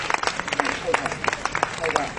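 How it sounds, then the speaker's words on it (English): Scattered clapping from a crowd at a protest at the Whitworth Art Gallery, mixed with voices and general chatter, moderately loud and irregular. "Brilliant, round of applause for Brent there."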